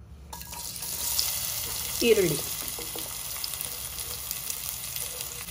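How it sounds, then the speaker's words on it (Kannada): Onions fry in oil with a continuous close sizzle for a fenugreek-leaf rice dish, and a brief louder swirl of stirring comes midway. "ಈರುಳ್ಳಿನ ಚೆನ್ನಾಗಿ ಎಣ್ಣೆಲಿ ಹುರ್ಕೊಳ್ಬೇಕು"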